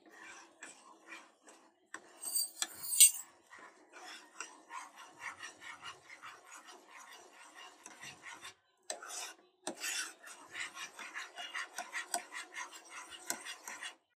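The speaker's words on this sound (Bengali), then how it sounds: "এখন অনবরত নাড়তে হবে, নাড়া বন্ধ করা যাবে না, তাহলে প্যানের তলায় লেগে যেতে পারে" A utensil scrapes steadily around the bottom of a pan while cornflour milk pudding thickens on the stove, giving a soft rasping rhythm with a few sharper clinks in a quiet kitchen.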